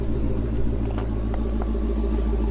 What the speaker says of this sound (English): Got the Hellcat making noise